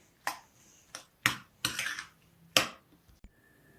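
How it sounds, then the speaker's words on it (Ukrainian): Several sharp clinking taps, like a utensil striking a bowl while mixing egg into instant noodles, come in quick irregular bursts up close with no voices. "куряче яйце, і це все потрібно перемішати"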